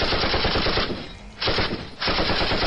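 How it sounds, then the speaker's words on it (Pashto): Rapid bursts of gunshots fired into the air, loud and close, in two long volleys broken by a short pause, with no talking. "یو څو هوایي ډزې وکړه چې دا خلک وډار شي"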